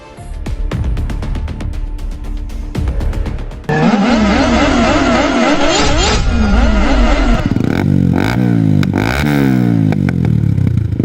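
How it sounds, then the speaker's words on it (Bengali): Motorcycle engine revving hard during a street bike race between friends, loud and continuous with rising and falling pitch sweeps, a second engine joining midway, alone with no speech. "বেবি কি বাইক চালাইতেছো জোরে যাও"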